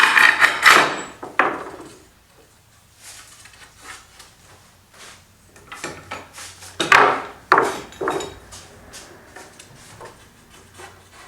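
Wooden desk pieces being knocked together by hand while assembling a desk, heard as a few loud close thuds and scrapes early on and again near the middle, with quieter rubbing and tapping between them and no speech.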